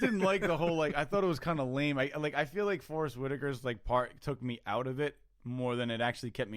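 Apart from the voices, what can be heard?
No distinct noise like a dog, phone or traffic.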